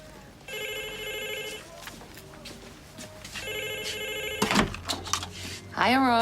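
A landline telephone bell rings in two long bursts indoors, separated by a short pause, followed by some clattering handling noise at the end.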